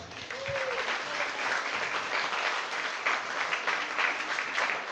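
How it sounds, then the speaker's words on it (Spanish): Warm applause from an audience at an academic ceremony honoring an engineer, a steady, dense clapping that fills the room without pause. "para quien pido un cariñoso aplauso"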